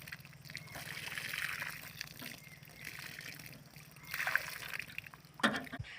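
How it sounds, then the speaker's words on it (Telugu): Water poured onto freshly planted dragon fruit plants on a farm, trickling and splashing in uneven bursts, close and fairly soft, with a couple of louder splashes toward the end. "ఇలా వాటర్ వేసుకుందాం."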